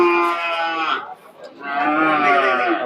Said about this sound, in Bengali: সবই ক্রস জাতের গরু।